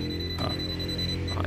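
An electrical wire continuity tester's buzzer sounds as a steady electronic tone, briefly disrupted by a couple of clicks or handling noises, close and clear.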